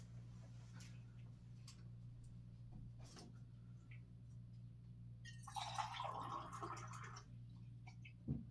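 A teacher takes a drink of water during a class, with a faint rustle and liquid sloshing in a short burst over a steady low hum in a quiet room.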